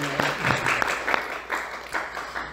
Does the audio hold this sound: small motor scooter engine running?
no